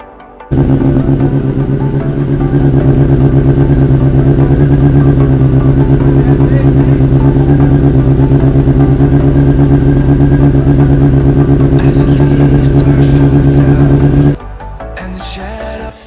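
A motorcycle engine idles steadily and loudly, close by, with a strong low hum that holds for most of the clip before cutting off abruptly near the end.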